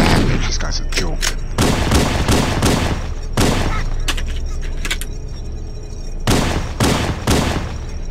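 Weapon fire in the video game Halo: Combat Evolved: loud bursts of shots in short volleys with brief gaps, repeating across the clip over steady game background sound.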